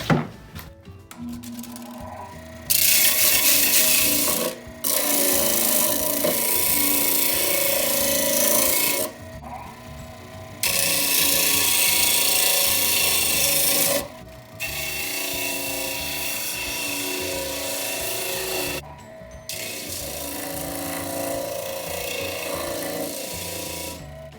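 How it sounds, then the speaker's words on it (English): Steady rasping sanding on juniper wood in several long passes, each stroke run broken by short pauses, loud and close throughout. "Okay, we've sanded it down."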